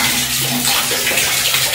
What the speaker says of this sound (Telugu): ఈ బాత్రూంలో వాటర్ ప్రెజర్ అనేది సరిగ్గా రావట్లేదు అన్నమాట.